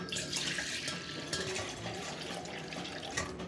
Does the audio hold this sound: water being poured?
yes